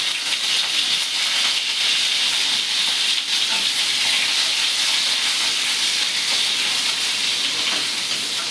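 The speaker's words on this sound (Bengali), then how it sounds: "এবার আস্তে আস্তে কাঁচকলাগুলো ভেজে নেব।" Raw green bananas frying in oil for sukto, a continuous dense hiss and sizzle that holds steady and loud throughout with no breaks.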